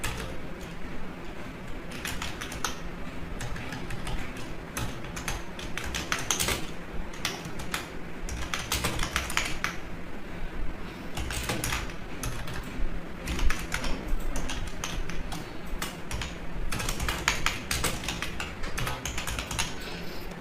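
Fast, steady typing on a computer keyboard, quiet and close, with clustered key clicks running continuously and no talk over it.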